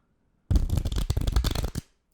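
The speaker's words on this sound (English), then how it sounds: "I'm going to shuffle these just a couple times." A quick riffle shuffle of playing cards, a dense fluttering burst of flicking cards lasting just over a second, close and crisp.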